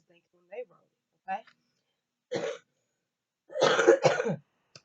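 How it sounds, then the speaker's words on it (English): A person clears their throat and coughs several times, short separate bursts building to a harsher double cough near the end, with quiet gaps between. "Then I keep coughing a lot."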